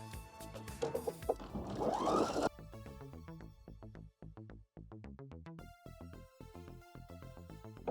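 A sewing machine stitching around a small denim jean pocket, with a brief rough scraping as the fabric is handled, then steady rhythmic needle thumps that pause once and resume, close and alone with no talking.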